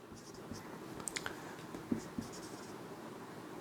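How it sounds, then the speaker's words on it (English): Pen writing out a math equation on paper, quiet scratchy strokes with a few small taps and clicks, close and soft with no talking over it. "So we'll write it down."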